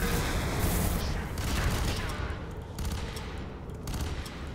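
Dense, continuous gunfire from a weapon in the video game FEAR 3, with rapid overlapping shots and booms forming a loud, unbroken roar throughout.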